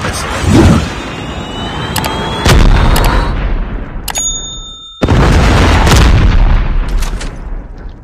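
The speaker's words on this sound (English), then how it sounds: "Friendly predator missile." Predator missile strike in Call of Duty: Mobile team deathmatch, loud booming blasts landing several times amid dense gunfire and battle noise, with sharp electronic tones cutting through.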